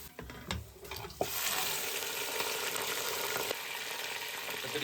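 Meat and fried onions with ginger-garlic paste sizzle in a pot for Lahori harissa. A steady, fairly loud frying hiss runs throughout, with a few stirring knocks near the start and no talking.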